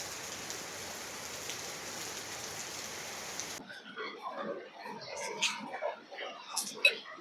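Heavy rain pours as a dense, steady wash for several seconds, then cuts off abruptly into a quieter stretch with a soft voice and light clatter.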